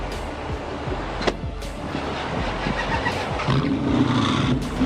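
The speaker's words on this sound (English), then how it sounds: "The driver is refusing to turn off the engine." A car engine idles and revs at the end of a ramp during a police stop, its driver refusing to shut it off; a steady loud rumble with rising throttle toward the end, no voices.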